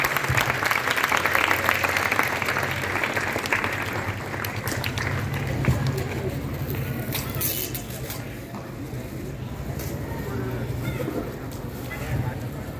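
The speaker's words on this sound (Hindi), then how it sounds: "जोरदार ताली बजा" Loud applause from an audience at a school book launch for Class XII computer science notes, a dense burst of clapping that fades to a lighter patter, with voices mixed in.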